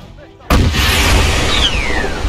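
RPG rocket launcher fired at a target in a military shooter game: one sharp loud blast after a quiet moment, followed by a roaring rush and a thin descending whistle as the rocket flies.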